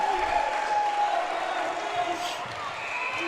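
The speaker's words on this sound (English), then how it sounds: "big claps in the crowd for the Victorian team" A crowd claps for the Victorian team at a men's under-17 basketball game, the applause steady and moderately loud over arena noise and a sustained tone, with talk running over it.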